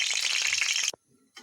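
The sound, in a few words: dried red chillies frying in hot oil in a wok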